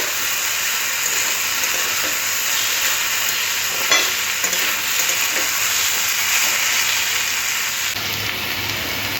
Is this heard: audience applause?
no